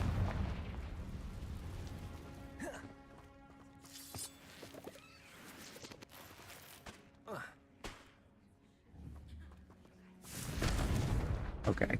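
The Confringo blasting spell in Hogwarts Legacy lets off several loud booming bursts over busy combat noise. A player talks between the blasts.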